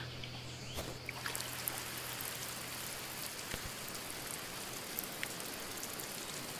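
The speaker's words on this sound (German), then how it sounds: "Erstmal gießen wir jetzt hier mal." Water splashes and patters softly onto plants from a watering can in the video game Garden Life Simulator, a quiet, steady rain-like trickle with a few faint clicks.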